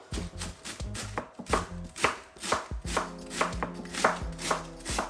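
A knife chops cabbage finely on a cutting board in a kitchen, a fast, even run of crisp, close knocks with no talk over it.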